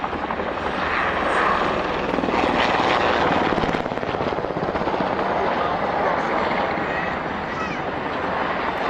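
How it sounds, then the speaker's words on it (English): Heavy rotor blades of Chinook helicopters at an Army Air Corps airshow give a loud, continuous rhythmic thudding beat with a broad roar, sustained throughout and close by, with commentary talking over it. "the first pair of the Chinooks following them, I think, getting quite an impression from the heavy rotor blades of this magnificent helicopter"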